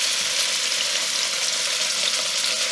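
Pork chops browning in a hot frying pan give a loud, steady, dense sizzle that holds without a break and with no talk over it.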